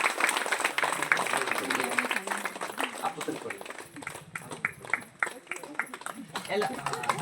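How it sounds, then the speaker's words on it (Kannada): An audience at a bhajan and discourse gathering honouring Sri Ramakrishna Paramahamsa's birth anniversary bursts into applause, a steady patter of many hands that fades and thins toward the end. "ಜೋರಾದ ಚಪ್ಪಾಳೆ ಒಂದು ಬರಲಿ."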